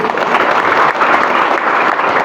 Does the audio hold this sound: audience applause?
yes